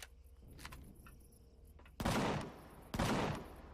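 Turrets in a sci-fi space video game fire in triple bursts, heard as two loud, broadband blasts of gunfire about a second apart after a quieter stretch of faint game sounds.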